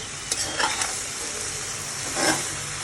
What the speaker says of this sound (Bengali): আর জীবনে প্রথম আমার এই ভিডিওতে আমি ইঁচড় রান্না করছি।